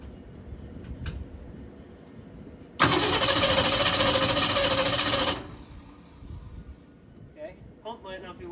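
A 1968 Ford Mustang engine cranks over with a loud, steady mechanical roar for about two and a half seconds, then cuts out to a quieter background, followed by a person talking.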